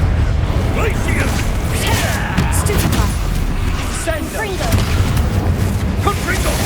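A Glacius freezing spell cast in Hogwarts Legacy amid a busy battle, with steady rumbling booms, crackling impacts and clattering effects throughout, and voices calling out over the din.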